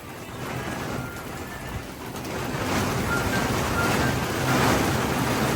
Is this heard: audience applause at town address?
no